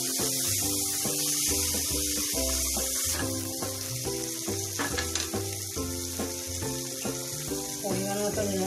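Chopped tomato sizzles as it fries with eggplant in hot oil for tel begun. The hiss is steady and close, with stirring scrapes, under a louder layer of tonal background music.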